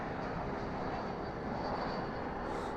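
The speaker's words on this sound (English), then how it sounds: "That is an Airbus A321 coming in from San Jose del Cabo" An Airbus A321 arriving at Dallas/Fort Worth International Airport at night from San Jose del Cabo, a broad, steady jet roar that holds evenly at moderate distance with no voices.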